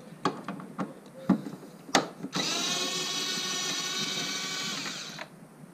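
Power tool driving a 10 millimeter magnetic socket on a long extension to remove bolts during a cold air intake install on a 2006 Lexus GS 430; a few clicks and knocks, then a steady close whine for about three seconds.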